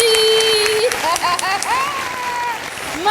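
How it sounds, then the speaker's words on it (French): An audience applauds Halima Gadji during a live radio broadcast. Steady clapping fills the room while voices and high, whooping calls rise over it throughout. "Un maximum d'applaudissements pour Halima Gadji."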